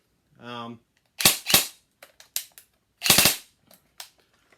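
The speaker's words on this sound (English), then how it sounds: "I replaced the motor with a KWA high torque motor in it. And now it's shooting really good." Airsoft gun fitted with a KWA high torque motor firing close by: a brief vocal sound, then sharp single shots and quick bursts in an uneven rhythm with short gaps between.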